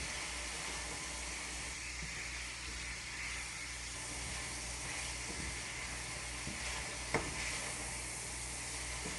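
Peppers, ginger and garlic stir-fry in a hot pan, making a continuous, even sizzle and hiss at moderate distance, with a few faint taps from stirring and a brief clink toward the end.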